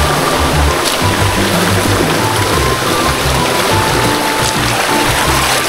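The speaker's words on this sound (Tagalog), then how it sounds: "Napakalakas ng agos ng tubig dito guys" A strong river current rushes steadily during a crossing on a rough road, a loud, continuous broadband roar of churning water close by with no pause.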